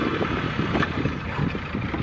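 A boat's outboard engine turning over and settling into a steady close-up rumble, with some wind buffeting the microphone.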